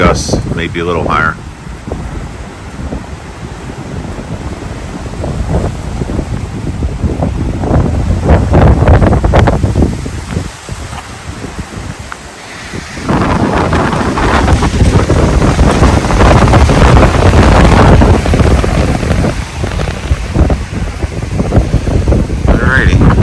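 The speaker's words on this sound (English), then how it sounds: "but now we're starting to get some of the wind." Strong hurricane wind gusts buffet a microphone outdoors in North Port, Florida, during Hurricane Milton, a loud, continuous roaring rush that surges and eases in waves, briefly dropping before swelling again.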